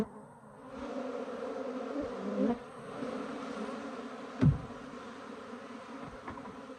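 Cordovan F2 Italian/Africanized hybrid honeybees hum steadily around an opened hive as frames are worked, a continuous low drone with a few soft knocks and a sharper bump partway through.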